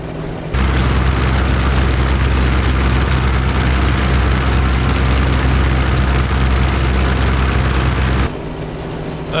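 A-1 Skyraider radial propeller engine in Microsoft Flight Simulator, a loud, steady, deep droning roar at high power that holds constant for several seconds before dropping back to a quieter rumble.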